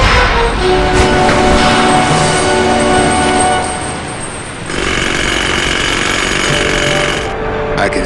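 A power chisel hammering in the game Grim Fandango, a loud, continuous rapid pounding rattle that briefly eases midway and then resumes at full force, with no voices.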